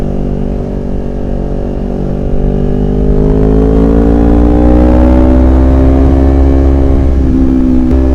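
Motorcycle engine with a loud aftermarket exhaust revving steadily and close, the pitch rising as the throttle opens and then holding a sustained drone, heard alone without speech.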